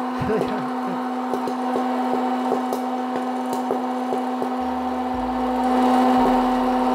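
A popcorn machine popping kernels: sharp popping cracks go off repeatedly at an irregular, steady pace over a constant mechanical hum, close and fairly loud.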